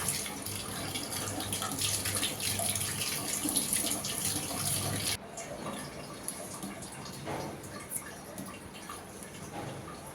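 Potatoes being rinsed under a running kitchen tap, a continuous hiss of flowing water with splashing that drops to a softer stream halfway through, close and steady.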